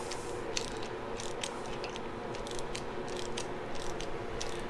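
Ratcheting a wrench on the pressurized fork spring retaining nut of a Harley-Davidson Iron 1200 Sportster: rapid, quiet metallic clicks repeating steadily and close up over a low background hiss, with no voices.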